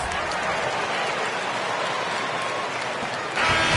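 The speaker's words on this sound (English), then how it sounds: "One more round of applause" A large arena crowd at a game applauds and cheers continuously, a dense wash of clapping that swells slightly louder at the end.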